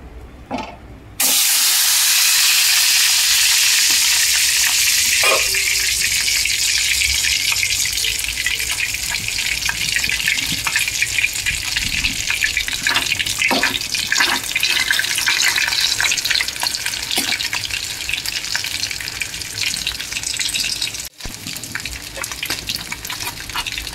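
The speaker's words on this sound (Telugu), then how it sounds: "ఆయిల్లో గోటు బ్రెయిన్ వేస్తున్నాను." Goat brain drops into hot oil in a pan and bursts into a loud, steady sizzling hiss that continues throughout with faint crackles.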